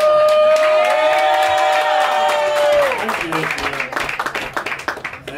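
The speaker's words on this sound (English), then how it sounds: "Coming back to the stage, start clapping again for Rick the Dick." An audience at a stage show claps and cheers loudly and close, a crowd roar swelling under a sustained tone that fades into scattered, uneven clapping.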